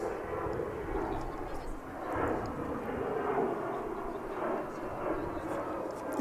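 An Air Canada Express jet operated by Jazz Aviation passes DFW International Airport, a steady, moderately distant engine roar that swells gently under ongoing talk.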